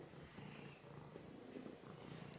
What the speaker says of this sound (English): Hear him purring.